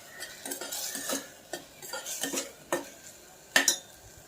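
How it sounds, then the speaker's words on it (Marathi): A spoon scrapes and stirs chopped onion, beetroot and tomato roasting in a pan, giving a run of irregular metallic scrapes and clinks close up with a soft sizzle underneath, and no voices. "आपण बघूया, कांद्यामध्ये आपण बीट आणि टोमॅटो असं भाजतो आहोत."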